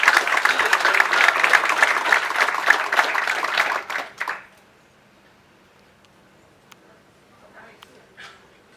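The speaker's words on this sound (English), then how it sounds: "please give Allison a round of applause" An indoor audience at an LNG station grand opening claps loudly for about four seconds. The applause fades quickly into near silence with a few faint scattered sounds.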